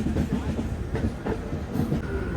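The Charminar Express runs through Chennai Beach railway station without stopping, a loud, close, continuous rumble with rhythmic wheel clatter and no voices.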